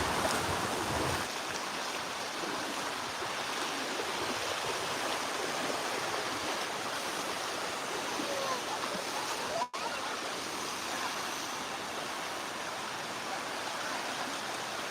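Sea water and waves wash around someone standing in the water at Walberswick beach on the Suffolk coast, a continuous hiss of surf at moderate level over fifteen seconds, briefly cut by a momentary dropout midway.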